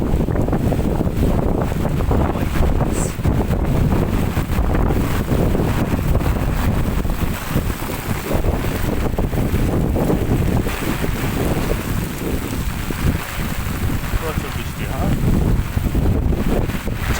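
Strong wind gusts through a heavy evening rainstorm in Malaysia, a constant loud roar and buffeting close to the microphone with rain noise beneath, steady throughout.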